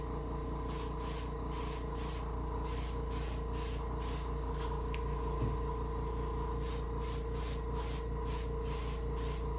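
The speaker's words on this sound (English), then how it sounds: "Angle spraying sometimes hits things in a certain way and brings out some detail in that head" An airbrush sprays paint onto a brook trout mount for taxidermy in short repeated bursts of hiss, close and fairly quiet, over a steady low mechanical hum from the compressor.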